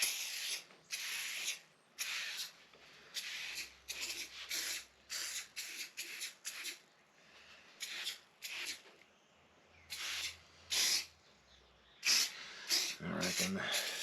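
Repeated short hissing bursts of oil from a spray nozzle onto a cast iron Dutch oven and skillet, close and fairly regular, a dozen or more quick sprays with brief gaps between them.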